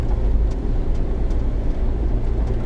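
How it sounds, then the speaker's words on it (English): A noisy 50-year-old mini truck drives along on a windy day, its engine a loud, steady low rumble mixed with wind buffeting from inside the cab, with no talking. "this truck is just a little bit too noisy"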